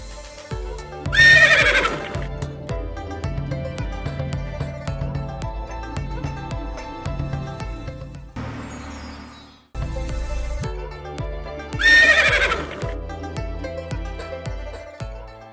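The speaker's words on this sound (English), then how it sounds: "May I present unto you a common horse?" A horse gives two loud, close whinnies over a sequence of hoof clip-clops, set against a musical score with a brief break in the middle.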